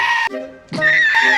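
A goat gives a few close, loud, wavering bleats, a short cry, a brief pause, then two more drawn-out quavering calls, heard alone.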